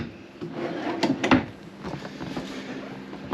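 Storage drawers in a Dutchmen Kodiak Ultra-Lite 332BHSL bunkhouse travel trailer sliding open and shut, giving a few close wooden knocks and thuds with no talking over them.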